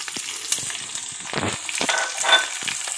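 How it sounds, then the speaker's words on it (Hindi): Plenty of chopped onions are tipped into hot oil for radish bhuji and fry with a loud, close sizzle, broken by clattering stirs and scrapes, and no voices. "इसमें डालेंगे हम ये जो खूब सारी प्याज"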